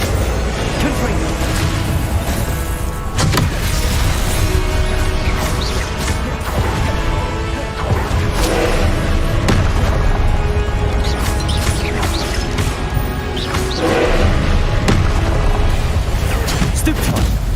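Confringo blast spells in Hogwarts Legacy combat, with repeated explosive bursts and crashes over loud, continuous battle noise, and a voice calling out spell names throughout.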